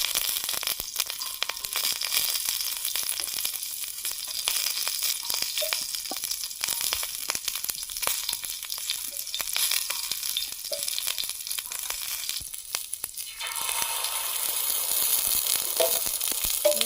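Capsicum fries in a hot pan for an omelette, giving a steady, close sizzling crackle that runs throughout with occasional stirring scrapes and no voices.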